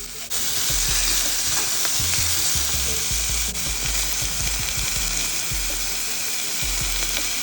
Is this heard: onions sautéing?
yes